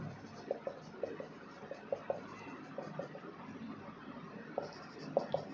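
A teacher writes on a board with chalk, giving faint, irregular taps and scratches at a steady working pace in a quiet classroom.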